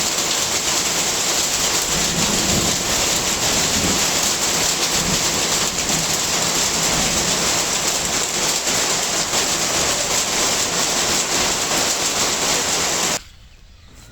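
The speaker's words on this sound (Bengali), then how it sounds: "দীর্ঘ 1 ঘন্টা বৃষ্টি হওয়ার পর এখন দেখেন বৃষ্টি কমছে" Heavy rain pours down during a Kalbaishakhi storm with hail, a loud, unbroken roar of drops on surfaces close by. It holds steady throughout, then cuts abruptly to near quiet at the very end, with no voices.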